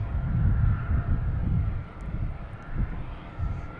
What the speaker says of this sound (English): it is pretty gusty here today, as you can probably hear